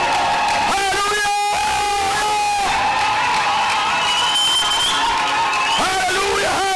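A worship crowd in Mahagi, Ituri, DRC, cheers and calls out in acclaim, loud and dense, with voices raised in song and shouts over a constant roar.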